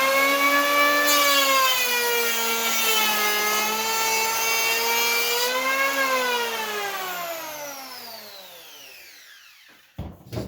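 A WEN 3 1/4 inch electric hand planer runs for a cut on wood, giving a loud steady motor whine that shifts slightly in pitch, then winds down over several seconds and ends with a few clunks.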